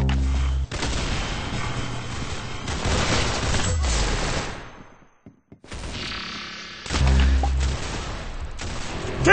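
Rapid video-game gunfire rattles in dense, loud bursts, cut by a short near-silent gap before the shooting resumes.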